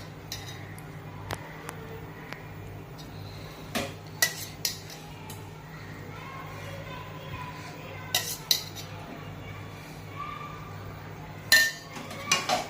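A utensil scrapes and clinks now and then in a pan while wheat flour roasts in ghee. The taps are sparse and spread out, there is a low steady background, and no one talks.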